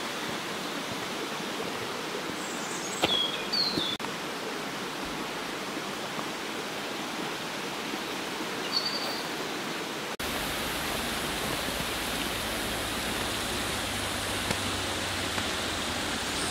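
A mountain river flows beside a hiking route, a constant broadband rushing wash that stays steady and fairly loud throughout, with a few faint bird chirps and brief handling knocks, then a slightly fuller rumble in the final stretch.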